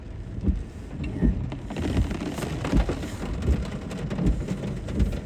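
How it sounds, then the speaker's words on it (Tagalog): Rain falling during a flood in Obando, Bulacan, a steady wash of drops and water noise with low rumbling and irregular thumps underneath, fairly loud and continuous with no talking. "Ulan na Thursday."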